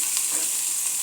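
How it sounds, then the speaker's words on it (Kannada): Chopped onions frying and browning in a hot pan, giving a dense, steady close sizzle with no voices. "ಈರುಳ್ಳಿ ಚೆನ್ನಾಗಿ ಕಾಡಿಸ್ಕೊಳ್ಳಿ, ಸ್ವಲ್ಪ ಬ್ರೌನ್ ಕಲರ್ ಬರಲಿ"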